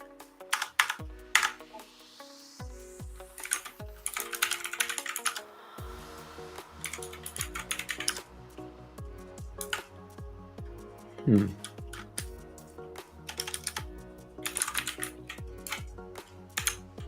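Keys clack in irregular bursts as a password is typed on a computer keyboard, close and crisp with pauses between runs, while music plays in the background.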